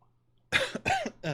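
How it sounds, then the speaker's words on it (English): Three harsh coughs in quick succession from a person recovering from a lingering cough, close and fairly loud in a quiet room, each burst short with a throaty rasp. "excuse me, still getting over this cough."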